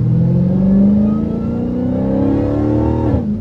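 A Dodge Charger Hellcat engine revs hard while accelerating, a loud, close growl rising steadily in pitch through a gear, then dropping sharply at the end, with no talking.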